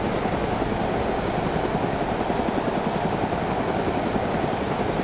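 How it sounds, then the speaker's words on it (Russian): A helicopter flies in the video game DayZ, its rotor and engine making a loud, steady, broadband drone that holds evenly throughout with no break. "Он слышит вертолет."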